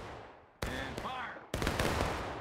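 Musket volleys crack out in War of Rights, with two loud, dense bursts of overlapping gunfire a second apart, echoing, with shouting voices between them.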